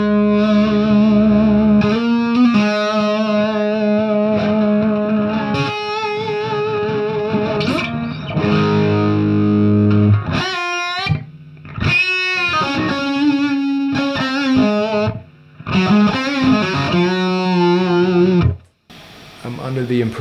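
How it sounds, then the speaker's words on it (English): Electric guitar through a Marshall JCM 800 Studio amp, with delay and reverb in the effects loop and a Klon overdrive, plays loud, driven chords and lead phrases with echoing tails, broken by short pauses. "now we have delay and reverb in the effects loop and the Klon"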